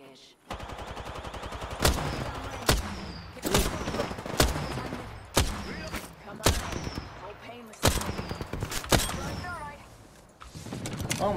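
Gunfire in Apex Legends: sharp, loud shots in an irregular string of single cracks and short bursts, with voices talking over them.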